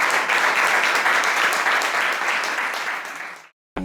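Audience applause at a comics festival talk, dense steady clapping filling the room at close range before cutting off abruptly near the end.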